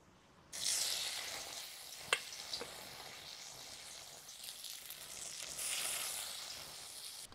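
Jute leaf and sesame fritters fry in hot oil in a pan, a close, continuous sizzle with a few sharp crackles and pops, and no voices.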